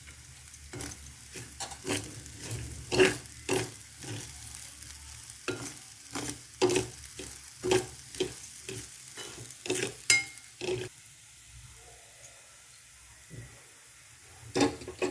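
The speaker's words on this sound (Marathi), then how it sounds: "त्याच्यातच आपण आता थोडेसे काजू पण परतूया" A spoon scrapes and stirs repeatedly as rice and cashews fry in a pan, a steady rhythm of sharp scraping strokes over a soft sizzle, close by.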